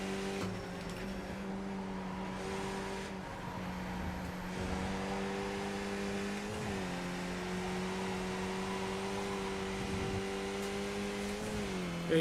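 Race car engines in the iRacing simulator played in VR hold a continuous droning, tonal hum, with pitch shifting slightly as the pack stays tightly bunched, steady and moderately loud throughout.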